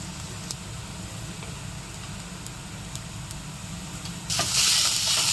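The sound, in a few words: onion with turmeric frying and sizzling in pan for zunka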